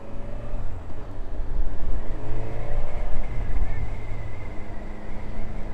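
A Honda CB1000 Hornet motorcycle accelerates with a rising engine note that climbs through gears, loud and close, mixed with wind rush.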